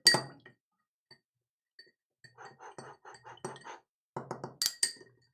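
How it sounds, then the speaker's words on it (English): Ice cubes are stirred in a glass of rum, giving a run of quiet, irregular clinks and rattles after an initial sharp knock, with a few louder chimes near the end. "We're going to give this one big fat stir."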